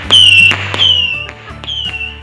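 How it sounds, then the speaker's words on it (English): Fireworks explode in quick succession nearby at a pool party during the Sturgis motorcycle rally, loud pops followed by crackle and a whistling tone, the bursts gradually thinning out. "We got a little bit of a fireworks show by Perry."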